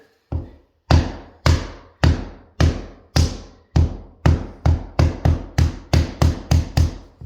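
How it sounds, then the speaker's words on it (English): A rubber mallet taps vinyl laminate floor planks to snap and lock them together, a steady series of dull thuds, about fifteen blows, speeding up slightly toward the end. "rubber end of your hammer or a rubber mallet to get that to snap in and lock"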